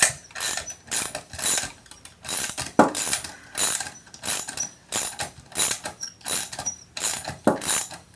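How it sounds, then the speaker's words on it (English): A hand ratchet tightening a bolt, clicking in steady back-and-forth strokes about one per second, close and distinct, with no talking. "So now what I can do is tighten that bolt"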